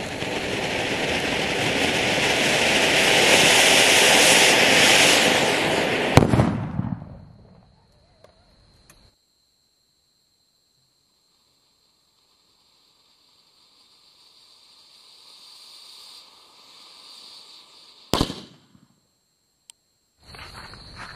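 An anar firework fountain with a sutli bomb beneath it: a loud, steady, close roaring hiss of sparks for about six seconds that cuts off with a crack, then near silence, faint rumbling and a sharp bang near the end.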